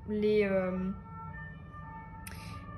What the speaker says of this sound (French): tu vois, la sirène